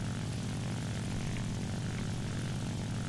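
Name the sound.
La-9 piston aircraft engine in War Thunder video game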